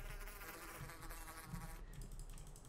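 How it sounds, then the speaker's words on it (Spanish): Wasps swarming around a nest in a video game give off a steady, dense, faint buzzing that continues without pause and with no talk. "hay una colmena aquí de avispas."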